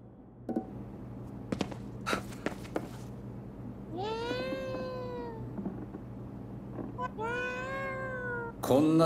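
A cat in the video game Ghostwire: Tokyo meows twice in long, drawn-out, wavering cries over a low constant hum, with a few light taps before them.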